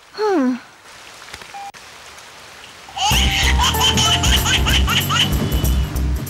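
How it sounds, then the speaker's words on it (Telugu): Heavy rain pours down steadily in a dense, loud wash, coming in abruptly about halfway through after a quieter stretch that opens with a short rising warble. "వర్షం బాగా పడుతున్నట్టుంది"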